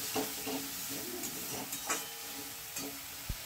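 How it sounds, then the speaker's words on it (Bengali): Spice masala with salt being stirred and fried in a pan: a soft continuous sizzle with repeated light scraping strokes of a spoon, ending in one sharp knock, fairly quiet and with no voices. "এটাকে আমি আবার ভালো করে নেড়ে চেড়ে মশলাটাকে একটু কষিয়ে নিচ্ছি"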